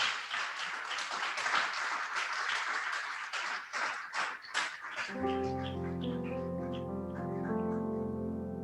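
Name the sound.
church congregation applauding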